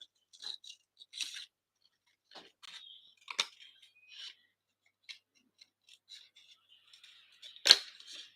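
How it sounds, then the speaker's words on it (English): Small scissors fussy cutting cardstock up close: quiet, irregular snips and clicks separated by silence, with one sharper snip near the end. "So I'm going to fussy cut this one as well."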